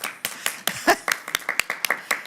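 Someone claps a run of about a dozen sharp, uneven hand claps, fairly close, at a city council meeting just after a budget vote, with a little faint talk around them.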